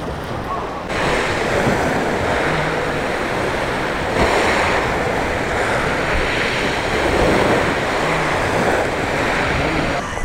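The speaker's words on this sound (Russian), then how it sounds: "Море сегодня спокойное." Calm sea at a beach at Aivazovskoye park in Crimea, with gentle waves washing onto shore in soft swells, mixed with steady wind noise across the microphone and no voices.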